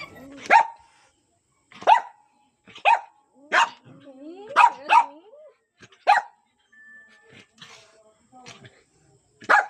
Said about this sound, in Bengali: এটা আমার কালো বিড়াল আর সাদা কুকুরের লড়াই।